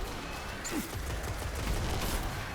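Automatic rifle fire from an auto rifle in a first-person shooter, aimed at low-tier enemies; a steady, dense stream of shots with a continuous level and no pauses, with no talking.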